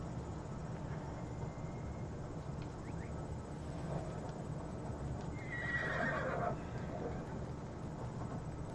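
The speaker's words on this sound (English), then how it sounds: "Horse, come to me." A horse whinnies loudly midway through, over steady hoofbeats and a constant low rumbling background.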